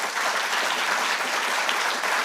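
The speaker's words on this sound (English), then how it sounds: "Let's have another round of applause for them" An audience at the Halifax International Security Forum gives a round of applause, a dense, even, continuous clapping that holds at a steady loudness from start to finish.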